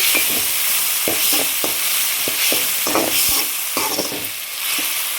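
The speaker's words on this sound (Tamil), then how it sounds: "அதையும் இதோட சேர்த்து இதோட நல்லா வதங்கட்டும்" Masala with two ripe country tomatoes sautéing in a pan for meal maker gravy, a steady close sizzle broken by repeated spoon stirs and scrapes throughout.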